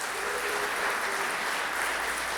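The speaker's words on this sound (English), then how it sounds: "Thank you, huge round of applause even for the organizers of this conference." Audience applause at the DevOpsDays Phoenix closing keynote, a dense steady wash of clapping from a conference crowd honoring the organizers, heard alone without talk.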